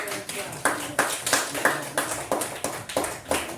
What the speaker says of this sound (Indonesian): Ya, jadi tepuk tangan buat Ferrelia.